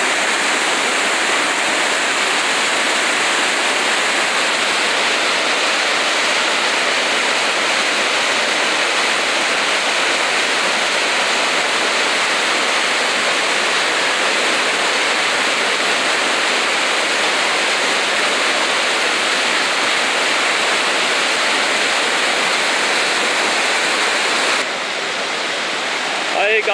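Floodwater of a swollen river surges past a bridge in Joaquim Gomes, Alagoas, a loud, steady broadband roar that runs unbroken throughout, close and overpowering.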